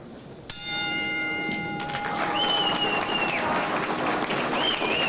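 Bell ringing to end a round in a professional super flyweight boxing bout, a sharp clang with long ringing tones over arena crowd noise and a commentator's voice.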